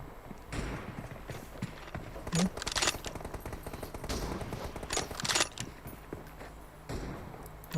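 Gunfire in the mobile battle royale game PUBG Mobile, bursts of rapid shots scattered across several seconds with quieter gaps between them, heard alongside faint background game sounds.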